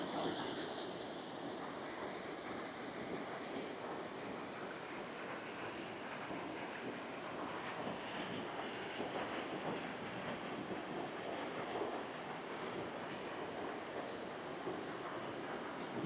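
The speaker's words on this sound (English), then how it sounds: "the water flowing just gives a sense of relaxation" A spring-fed river flows past a waterfall among trees, a steady, broad rushing roar that stays constant and close with no voices.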